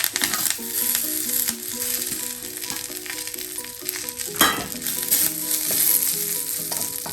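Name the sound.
washed curry leaves crackling as they fry in oil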